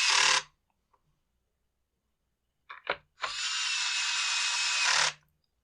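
A power drill backs screws out of a handheld leaf blower, with a short whir, a few brief bursts, then one sustained close whine of about two seconds amid quiet gaps.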